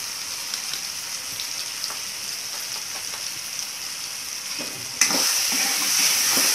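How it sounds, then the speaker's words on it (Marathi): Pav bhaji vegetables (cauliflower, potatoes and peas) frying in a pan as chili powder is stirred in, with a steady close sizzle that jumps louder and brighter near the end. "आता ही मिरची पावडर टाकून घेऊया।"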